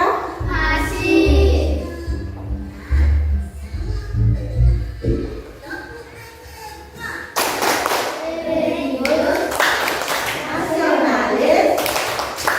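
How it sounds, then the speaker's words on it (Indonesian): Children standing in an Indonesian classroom perform the PPK clapping chant. Dull thumps and patting come first, then a burst of rhythmic group clapping joins the children's chanted voices. "sekarang kita lanjutkan dengan tepuk PPK"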